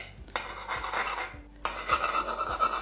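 Beaten egg with spring onion greens cooked over a low flame in a pan, a utensil scraping and stirring it in repeated short rasping strokes, close and fairly quiet with a pause midway.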